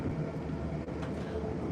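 A train rolls along steadily, its low continuous rumble and rattle filling the interior of a near-empty carriage on a trip to London, with no break in the noise.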